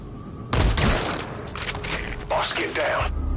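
A burst of enemy sniper gunfire and impacts in Metal Gear Solid V, sharp cracks and rumbling booms across a few seconds, loud and close, mixed with game sounds.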